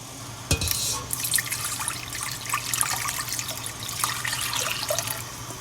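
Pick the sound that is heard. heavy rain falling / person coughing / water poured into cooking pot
water poured into cooking pot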